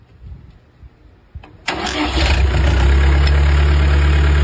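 A 490 truck engine, fitted with a 12-volt starter motor running off a single battery, cranks briefly and then catches. It settles into a loud, steady idle with a thin high whine running above it.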